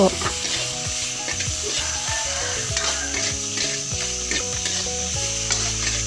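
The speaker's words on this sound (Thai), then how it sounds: "แล้วก็ใส่จิ้นหมูลงไปเจ้า" Steady, loud sizzling of pork frying in curry paste in a hot pan, with repeated scraping and stirring strokes throughout.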